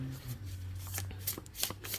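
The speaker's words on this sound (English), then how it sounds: "There's a big clump came out, so I'm going to keep shuffling." Tarot cards are riffled and shuffled close up in quick bursts of crisp flutters and taps, with faint background hum and no speech.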